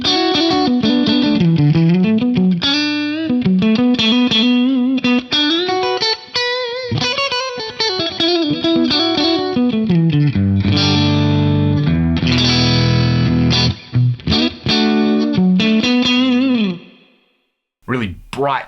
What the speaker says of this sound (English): Really bright plate style sound.